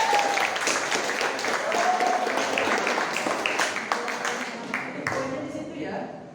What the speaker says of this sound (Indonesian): tepuk tangan untuk yoga